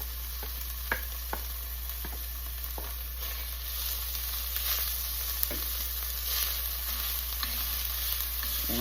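Ground beef goes back into a pan of frying onions for cowboy beans, a steady sizzle with occasional sharp scrapes and taps, heard over a constant low electrical hum.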